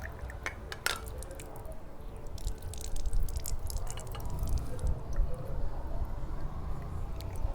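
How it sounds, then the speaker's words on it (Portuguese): Tap water runs through a corroded thermostatic valve with a steady, close hiss and gurgle, broken by occasional metallic clinks and drips. "A água tá passando praticamente toda"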